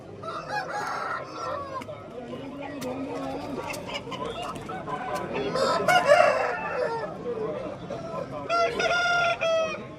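A Bhimavaram fighting rooster crows at a Vijayawada poultry market, with clucking fowl and a busy mix of background voices around it, moderately loud and close.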